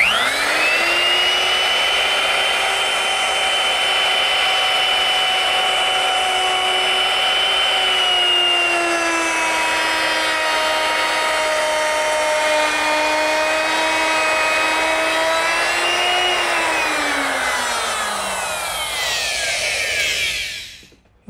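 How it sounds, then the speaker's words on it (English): A portable router with a half-inch straight bit and guide fence cutting wood between dovetail sockets on a rolling shop cabinet: a loud, steady high whine held for about eighteen seconds, its pitch dipping slightly before winding down and stopping. "I can use my portable router, which I've equipped with a half-inch straight bit and a guide fence."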